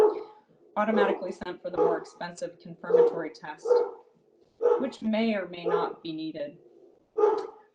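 A dog barks repeatedly in the background of an indoor room, sharp yips and barks mixed under a person's steady lecture-style talking throughout.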